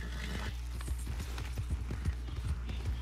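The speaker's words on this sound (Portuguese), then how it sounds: "O cavalo" Horse hooves clip-clop in a steady, close rhythm through a Western video game, regular thudding beats over a low game background with no talking.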